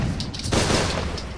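A volley of musket fire erupts in the video game Mount and Blade Warband, a dense crackling fusillade of overlapping shots that swells sharply midway through and rumbles on briefly.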